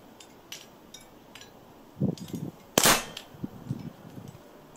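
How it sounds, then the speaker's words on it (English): A small pistol fires indoors in a kitchen, one sharp loud crack that echoes off the room, with a few fainter knocks and clinks around it. "Quite a noisy little pistol. Can most definitely do with a silencer. It's echoed in this kitchen."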